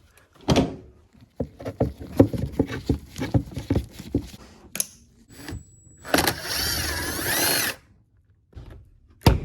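A power drill whirs in short bursts and then one long, loud run, backing out 8mm screws from a small cover on a car during fuel tank and transaxle removal, with clanks and handling noises before it.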